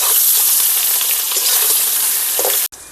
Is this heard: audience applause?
no